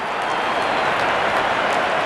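A cricket crowd at a Pakistan vs Sri Lanka T20 World Cup match cheers and applauds after a wicket falls, a loud, steady wash of clapping and voices from a large stadium audience.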